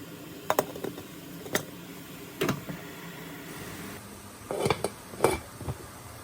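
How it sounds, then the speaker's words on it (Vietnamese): A metal pot of water is set up on the stove for steaming bánh khúc rice cakes, with sharp clinks and knocks of metal cookware coming in scattered bursts against quiet room noise. "bây giờ mình đun nồi nước rồi mình đặt lên hấp thôi"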